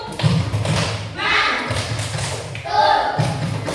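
A classroom of pupils claps a rhythmic patterned cheer for a classmate, bursts of hand slaps and thumps arriving in grouped beats, fairly loud and close, with children's voices chanting along between the claps.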